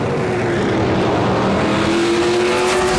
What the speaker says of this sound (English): John Gaunt up in smoke there, spinning it out in turn 4.